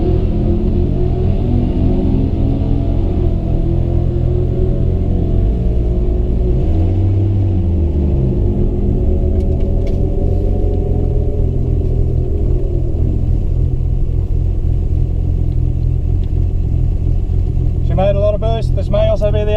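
Turbocharged Ecotec V6 drag car on a test-and-tune pass, a loud continuous engine drone with rising and falling pitch and heavy low rumble throughout, ending in a sharp rattling burst.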